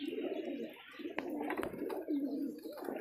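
Desi pigeons cooing close by, soft repeated throaty coos with a few sharper bird calls over a quiet background.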